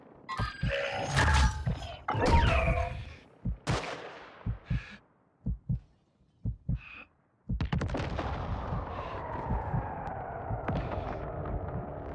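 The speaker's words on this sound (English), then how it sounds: "Taking effective fire!" Gunfire in Call of Duty MW2 DMZ: loud, close bursts of shots and booming impacts, then a string of separate single shots with gaps, ending in dense, continuous firing.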